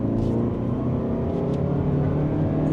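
2026 Toyota RAV4 XLE accelerating from second gear in sport mode, a steady engine drone heard from inside the cabin with layered humming tones and a low rumble, holding fairly even over a few seconds.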